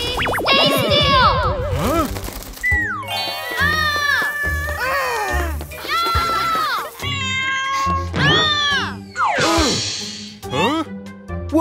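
A cartoon cat meows and caterwauls repeatedly in distress over water, loud and close, with exaggerated wavering cries, cartoon sound effects and a character's voice mixed in.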